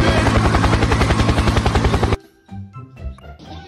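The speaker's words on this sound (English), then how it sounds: "Helicopter! Helicopter!" A loud helicopter's rapid rotor thudding fills the first two seconds, then cuts off abruptly, leaving quieter mixed sounds.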